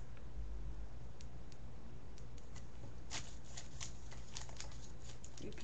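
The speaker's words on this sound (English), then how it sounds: "the little flaps on the bottom, you're gonna fold them up on all the sides" Origami paper flaps folded and creased by hand produce soft crinkles and sharp little crackling ticks, sparse at first and then quicker and denser, close and quiet over faint background hiss.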